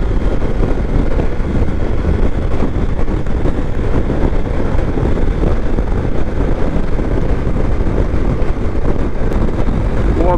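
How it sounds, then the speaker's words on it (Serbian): Heavy wind roars and buffets the microphone without pause while riding a 2024 Triumph Tiger 900 Rally Pro motorcycle at highway speed, a dense, loud low rumble throughout with no clear talk. "Pogotovo je danas izuzetno jak vetar"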